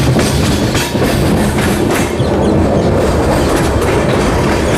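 The Amrit Bharat Express runs through a loop line at Dongargarh railway station with a loud, continuous close rumble and rattle of carriages and a steady clickety-clack of wheels.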